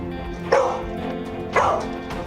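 A dog gives two sharp, separate barks about a second apart. The barks are close and clear over a quiet background.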